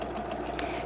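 A Husqvarna Viking sewing machine runs a stitch, a steady low mechanical hum with faint rapid ticking, close and fairly quiet, lasting under a second with no talking.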